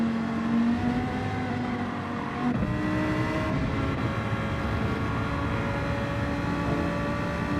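Race cars in Gran Turismo 7 hold a steady engine drone with tonal whine, several cars close together on track, engine pitch dipping briefly around mid-clip as they slow, continuous and fairly loud.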